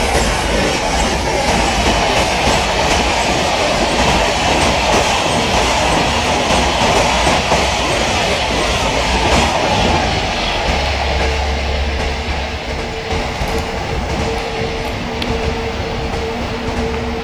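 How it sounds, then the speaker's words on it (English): An express train, the Rajasthani Express, passes on the main line beside a train held in a loop line in Microsoft Train Simulator, a loud continuous rumble with clattering wheels that fills the whole stretch and eases slightly near the end. "So one more Rajasthani Express overtake our train."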